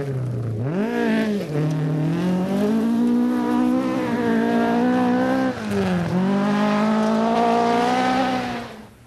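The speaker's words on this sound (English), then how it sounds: "in the Craigvinian stage in Perthshire with the Peugeot in full cry on his way to 9th place" A Peugeot rally car at full cry on the Craigvinian stage in Perthshire, engine screaming loud and close through rising and falling gear changes, with a brief dip and a shift before winding up again.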